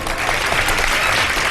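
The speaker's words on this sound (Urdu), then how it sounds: "بہت ساری تالیاں" Steady, dense applause from a studio audience on a Ramadan iftar TV show, a continuous wash of clapping hands at full volume for the whole stretch with no voices over it.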